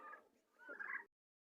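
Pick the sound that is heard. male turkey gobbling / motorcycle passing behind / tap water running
male turkey gobbling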